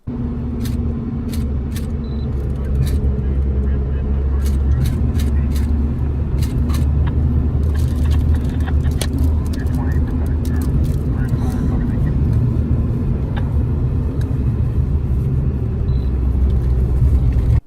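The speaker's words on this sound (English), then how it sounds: "This is what it's like to try and drive through a wildfire in California." Car driving through a California wildfire, with a steady loud low rumble of engine and road noise throughout, scattered faint ticks and crackles above, and no clear speech.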